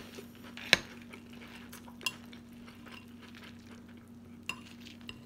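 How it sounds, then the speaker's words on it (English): A spoon clinks against a bowl during a cereal breakfast, with three bright, isolated taps spread over a quiet room with a low steady hum, no talking. "So I'm just eating my cereal breakfast."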